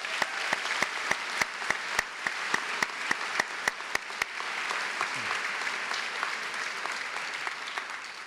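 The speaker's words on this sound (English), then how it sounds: "Can we please give them a big round of applause?" A commencement audience applauds, starting with a few sharp, rhythmic, close claps that give way to dense, sustained clapping from the whole crowd.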